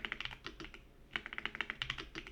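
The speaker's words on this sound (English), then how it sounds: "So this one I'm gonna type in rim" Rapid computer-keyboard keystrokes, typed while entering a rim light setting in 3D rendering software, come in two close, crisp bursts split by a short pause, with no voices.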